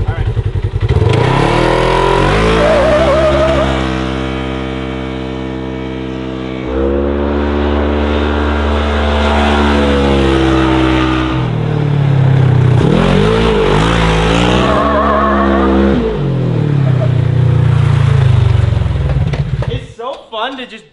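A car on a private two-lane drag strip accelerates hard through several gears, its loud close engine note climbing in pitch, dropping at each shift and climbing again, with voices heard over it.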